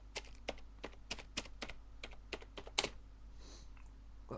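Keys on a basic Compaq computer keyboard are tapped in an irregular series of about a dozen sharp clicks, close and fairly loud over a quiet background hum, with one heavier keystroke near the end.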